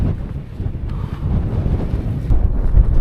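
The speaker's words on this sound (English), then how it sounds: "try and get out of this bloody wind" Strong wind buffeting the microphone on an open hilltop of the North York Moors, a continuous low roaring rumble that swells toward the end, with no speech.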